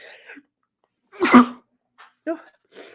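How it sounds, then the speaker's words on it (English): One sharp, loud sneeze bursts out close by, with soft breathy sounds before and after it in an otherwise quiet room. "I'm going to sneeze"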